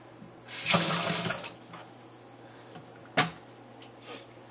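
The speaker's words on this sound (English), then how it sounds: "Then after rinsing off my spoon" Running tap water rinsing a spoon at a kitchen sink, a soft splashing burst of about a second, then a brief sharp clink and a faint trickle, fairly quiet with no talking.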